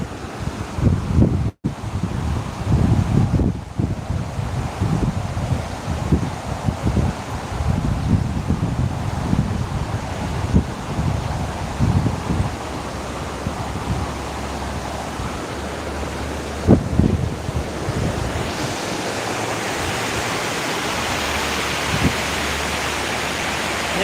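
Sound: flowing river water

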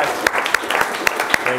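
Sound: audience applause

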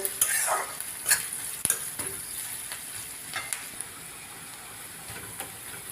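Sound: frying chopped onions

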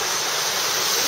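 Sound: waterfall flowing beside mountain hut

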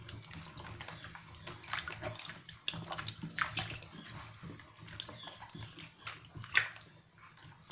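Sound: vegetables and fruits being washed by hand in water

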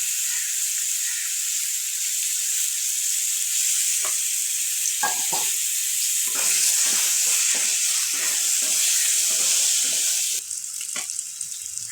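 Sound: potatoes frying in oil

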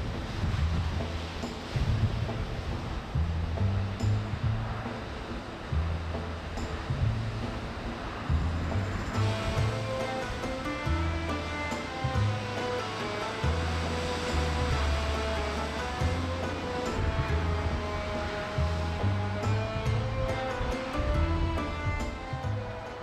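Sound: waves and sea spray whipped up by strong wind

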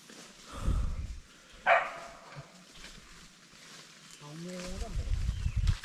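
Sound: dog barking

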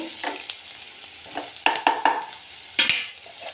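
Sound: frying and stirring onions in a pan

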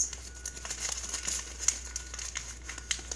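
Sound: opening plastic blind bag with My Little Pony toy

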